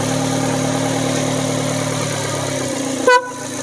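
A Nissan Evalia engine rumbles steadily, then a brief loud burst as it turns over near the end, followed by a smoother idling tone.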